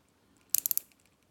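Two-tone Tevise T801A watch bezel being rotated, a quick burst of about five crisp ratcheting clicks, very close and faint, surrounded by near silence.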